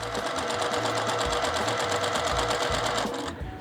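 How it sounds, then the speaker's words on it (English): Sewing machine running steadily to stitch a seam along one side of quilting fabric for a half square triangle, a loud continuous rapid whirring with pulsing stitch rhythm that stops near the end. "I'm gonna sew down one side here."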